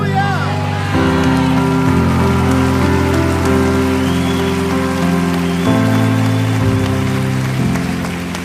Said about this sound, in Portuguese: A chuva caiu do céu